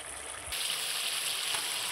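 Puti fish frying in oil in a pan for tel jhal, a steady, soft hiss and sizzle that jumps up in level after a brief quieter start, with no voices.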